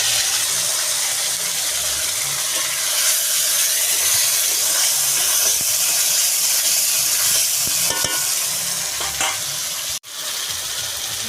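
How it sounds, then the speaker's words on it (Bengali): Fried shrimp going into hot oil for shrimp pulao, giving a steady, loud sizzle and hiss that runs throughout with a brief break near the end. "এখন দিয়ে দেব চিংড়ি মাছ ভেজে রাখা।"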